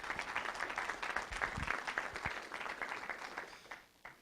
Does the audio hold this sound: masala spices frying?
no